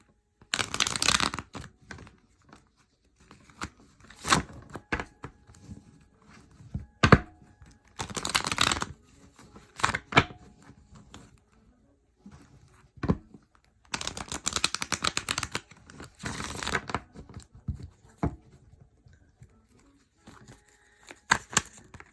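Tarot cards being shuffled and drawn for a reading: repeated close riffling bursts of a few seconds each, separated by quiet pauses with light card flicks and taps, no talk.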